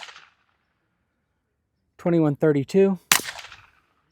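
A single sharp, loud report from a Ruger LC carbine firing 5.7x28 40 grain Hornady Black ammunition cracks out after a man reads a number aloud, with a fainter fading burst at the very start.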